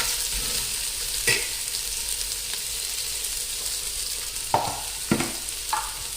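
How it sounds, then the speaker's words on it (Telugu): Chopped onions fry in hot oil for mushroom pulao, a steady close sizzle broken by a few sharp stirring scrapes and clatters in the pan. "ఆయిల్లో ఫ్రై చేసుకోవాలండి."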